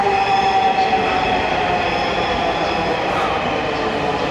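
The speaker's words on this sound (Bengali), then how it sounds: "ফাইনালি ট্রেন চলে আসছে।" Dhaka metro train pulling into a station on the Motijheel line, a loud, steady rumble and rail hiss with a faint wheel squeal, close by and continuous throughout.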